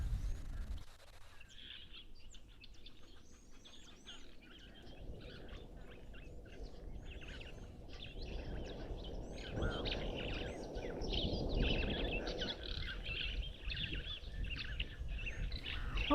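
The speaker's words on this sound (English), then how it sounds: "Oh wow, we've got some birds." Birds call and chirp repeatedly at an outdoor waterhole, with overlapping calls against a steady background hum.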